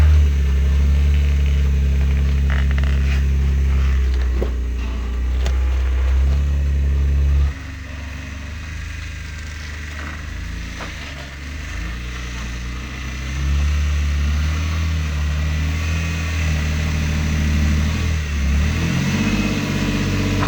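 An off-road rig's engine works through a boulder climb on a rocky Johnson Valley trail, rumbling loud and close with repeated revs, a sharp drop in load partway, then steady throttle as it crawls on.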